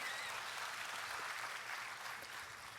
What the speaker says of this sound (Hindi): अब ये मूर्ख ताली बजा रहे कि समझदार?